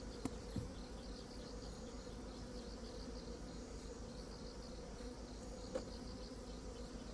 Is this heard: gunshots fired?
no